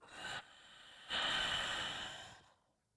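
A slow, soft exhale during a neck and shoulder breathing exercise. A brief breath is followed by a longer, close, airy outbreath that gradually fades into silence.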